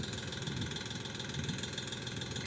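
Steady engine drone, mid-low and constant, from machinery digging seed potatoes at about a thousand revolutions per minute, heard alone without speech.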